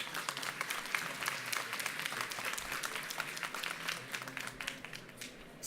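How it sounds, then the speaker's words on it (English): Steady audience applause for a panel of women at a data event, a dense continuous patter of many hands clapping, moderately distant in a large room with no talk over it. "I think they deserve a round of applause."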